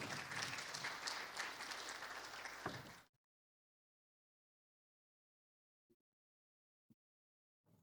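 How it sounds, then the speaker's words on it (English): An audience at a teacher education event bursts into dense, steady applause for about three seconds, then it cuts off abruptly, leaving near silence broken by a few faint knocks. "Round of applause."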